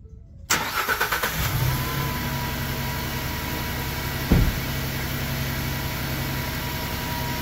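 A Ford Transit engine cranks briefly and fires after a water pump and timing cover reseal, then settles into a steady close idle, with a short mechanical clunk partway through.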